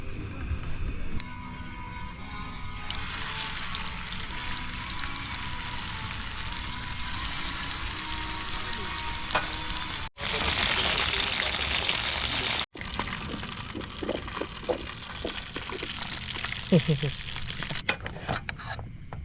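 Food sizzling in a pan at a campsite in San Antonio, Zambales, a steady crackling hiss that runs for about ten seconds, cuts out briefly twice, then continues more unevenly with small pops and clatter alongside quiet voices.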